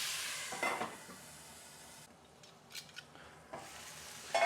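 Drained canned black beans and prawns heating in a pan, giving a soft, steady sizzle close by with a few brief scraping stirs, quiet overall and without speech.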